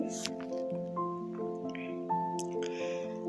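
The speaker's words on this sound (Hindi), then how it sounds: "अब हम इन सब इंग्रेडिएंट्स को अच्छे से मिक्स करेंगे।" Skincare ingredients stirred into a paste for a face pack, soft wet squishing and dabbing sounds in short bursts over steady background music.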